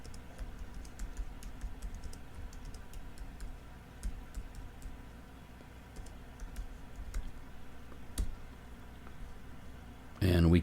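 Typing on a computer keyboard comes through as faint, scattered key clicks in a quiet room, with a louder bump of noise at the very end.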